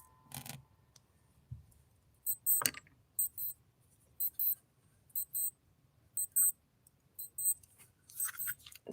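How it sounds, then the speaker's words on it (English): Alarm clock going off with a steady series of short high-pitched beeps in evenly spaced pairs, fairly faint over quiet room noise, with a couple of soft handling clicks and no talking. "That is my alarm."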